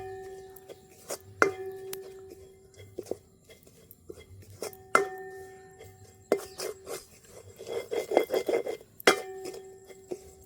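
Grated coconut being stirred and roasted in a pan, with a spatula scraping and clinking against the metal in uneven bursts and a brief rapid flurry of stirring near the end, close up.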